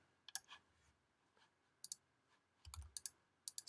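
A computer mouse clicks quietly while working in Adobe XD, giving a few pairs of crisp, close double clicks spaced over a few seconds against a faint background hum.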